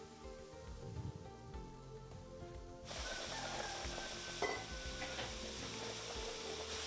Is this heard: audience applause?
no